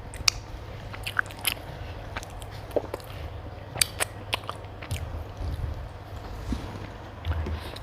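Someone eating Monthong durian plain, without sticky rice: close, irregular soft bites and chewing crunches scattered across the clip over quiet background, with no talk.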